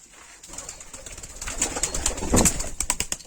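Van pigeon chick calling with soft repeated coos and chirps close by, growing louder toward the end, with a faint rustle of movement.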